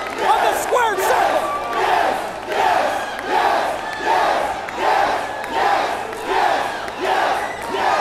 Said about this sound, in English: Listen to this sold-out crowd tonight here in Houston.